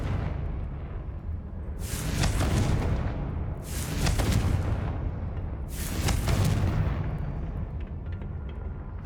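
Three heavy explosive blasts from the Confringo fire spell in Hogwarts Legacy, each a loud booming burst with a rumbling tail, spaced about two seconds apart over a continuous low ambient background.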